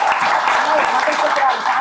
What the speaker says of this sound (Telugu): మీరు ఒకసారి చప్పట్లు కొట్టాలి ఈ సభకు